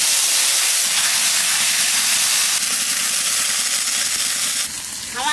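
A loud, steady hiss of ground spice paste going into a hot pan of small raw bacha fish, filling the whole stretch with dense steam and sizzle, briefly dipping and crackling near the end.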